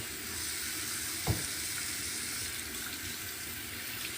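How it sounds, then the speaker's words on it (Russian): Tap water runs steadily into a kitchen sink while dishes are washed, a continuous hissing stream with one brief clunk partway through and no talking. "Посуду надо мыть."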